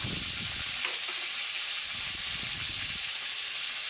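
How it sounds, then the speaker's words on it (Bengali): Potato pieces seasoned with salt and turmeric fry in a wok on a homemade stove, producing a continuous close hissing sizzle with soft crackles and no talking. "লবণ হলুদ দিয়ে ভালো করে লাল লাল করে ভেজে দেবো"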